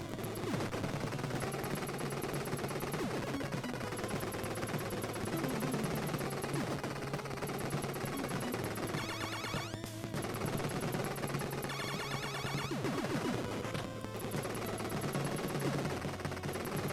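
Machine gun fire in the NES game Contra, a dense, continuous stream of rapid chiptune shots layered over loud game music and bursts of explosions, running without pause.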